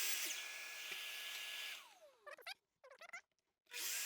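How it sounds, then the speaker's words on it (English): A miter saw cuts a wooden plant stand leg: a loud whining spin-up holds steady, then winds down with a falling pitch, followed by a few short clacks and knocks before the saw starts up loudly again. "cut the bottom of the leg, then move it up, and I've got to stop at the other end of the miter saw"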